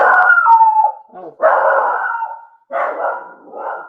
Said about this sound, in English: That's my dog chiming in